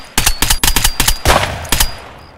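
Rapid gunfire in Escape from Tarkov during a night woods raid, a loud burst of about a dozen close shots in quick irregular succession, then a fading tail, with no talking.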